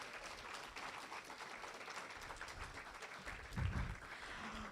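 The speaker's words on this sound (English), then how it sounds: "give yourselves a round of applause" Audience applause at a youth leadership symposium in Jamaica, soft and distant clapping spread evenly across the moment, with a brief low thump near the end.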